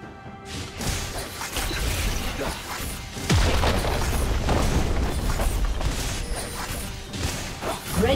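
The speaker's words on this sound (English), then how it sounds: "Red Team's turret has been destroyed." A turret crumbling in League of Legends: a heavy boom and crash with whooshing debris, followed by sustained rumbling noise and scattered impacts from the surrounding fight, with a faint voice under the din.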